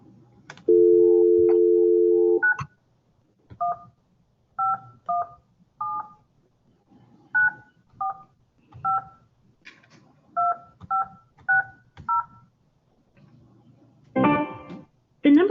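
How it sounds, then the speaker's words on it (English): A telephone number is dialed on a landline, starting with a steady dial tone, then a string of crisp DTMF key beeps in quick irregular groups, ending in a louder burst of tones. "Let me see if I can get her on the phone."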